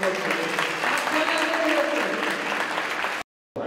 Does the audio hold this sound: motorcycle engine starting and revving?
no